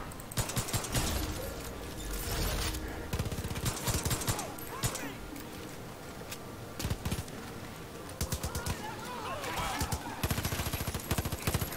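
Rapid bursts of gunfire and shotgun blasts from the video game Far Cry 5 (Arcade mode, Der Riese map), dense and continuous throughout, with some voice mixed in.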